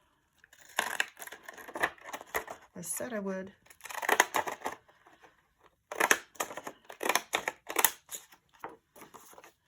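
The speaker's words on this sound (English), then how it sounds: "why don't I use some decorative scissors?" Decorative scissors snipping through paper in a junk journal, in several short bursts of crisp cutting and crinkling, close up, with a quick spoken phrase between cuts.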